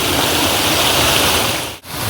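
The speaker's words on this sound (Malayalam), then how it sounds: "നന്നായി വെള്ളം നല്ല ശക്തിയിൽ വരുന്നുണ്ട്" Olippara waterfall, a seasonal monsoon fall, roars in a dense, constant broadband rush from close by, with a brief dip just before the end.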